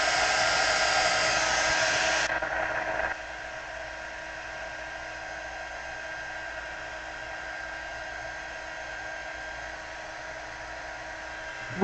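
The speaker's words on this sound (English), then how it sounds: "When you dry with your heat gun" Steady, loud whirring blast of a heat gun drying ink for card making, running for about two seconds before dropping to a quieter fan hum that continues to the end.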